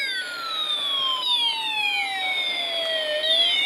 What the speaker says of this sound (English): You can see the waveform changing as the alarm IC siren plays, but also while our space-4 IC bomb sound gets overlaid with it.